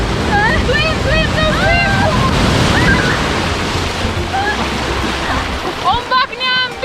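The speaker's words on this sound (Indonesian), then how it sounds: "Ombaknya ambil mereka." Ocean surf rolls and washes close by on a windy beach, a loud continuous roar with wind buffeting the microphone, while excited voices shout and chatter over it throughout.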